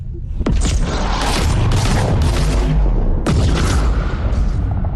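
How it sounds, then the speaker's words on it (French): Video game gunfire erupts in loud, booming bursts, two heavy blasts with dense rumbling tails that fill most of the stretch, close and alone with no speech. "Attends, je vais tirer dessus."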